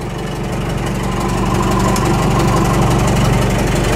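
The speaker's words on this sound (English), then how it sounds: "Does that not sound like a diesel to you?" A Cummins diesel engine swapped into a Ford F150 runs steadily nearby, a loud, continuous low rumble with a rhythmic idle knock and faint high whine holding even throughout.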